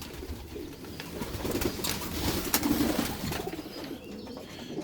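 Pigeons coo in a breeding loft, with soft repeated throaty calls overlapping against a rustling background, moderately close and rising in the middle before easing off.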